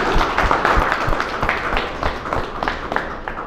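Audience applause for the organisers at the closing ceremony of a refrigeration and air-conditioning technician training course, a steady patter of many hands clapping at close range with no voices over it.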